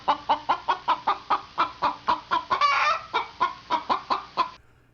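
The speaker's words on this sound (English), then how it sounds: "just keep on clucking, chicken" A chicken clucks in a steady run of about fifteen sharp, evenly spaced clucks, close and fairly loud, with a brief squawking flurry in the middle before it stops.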